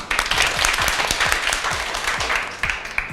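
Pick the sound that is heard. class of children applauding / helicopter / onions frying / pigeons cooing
class of children applauding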